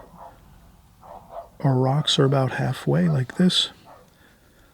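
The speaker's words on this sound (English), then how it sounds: "I apologize for the barking dog. It sounds like something is perturbing the dog next door," A neighbour's dog barks faintly in the distance, a few muffled barks before and after a stretch of close indoor speech from a watercolour painting lesson.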